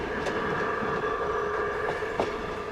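A miniature model railroad with Englewood locomotives hauling box cars, log cars and cabooses over trestles gives a continuous rolling rumble with occasional sharp clicks of wheels over track joints, steady and fairly close.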